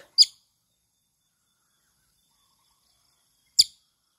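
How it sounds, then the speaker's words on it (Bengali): An injured bird gives two short, sharp chirps about three seconds apart, each standing alone against near silence. "এই পাখিটা খুবই মর্মাহত, আহত হয়েছে"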